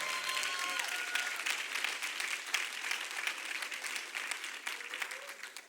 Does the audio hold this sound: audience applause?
yes